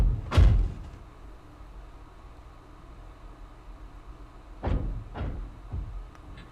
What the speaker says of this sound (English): When we hear the door open, we must hide.